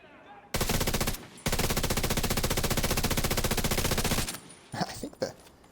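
A FAMAS assault rifle fires in the video game Division 2, with a short burst, a brief pause, then a long sustained rapid-fire stream ending in a few scattered shots.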